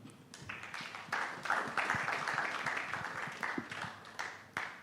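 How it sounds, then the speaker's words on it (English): Audience applause in a lecture hall as a guest walks in, a steady wash of many hands clapping at moderate loudness for several seconds, with a faint voice underneath. "Alfred is walking in. You can clap for him"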